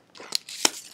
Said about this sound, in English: we'll cut this whole section out first and then separate them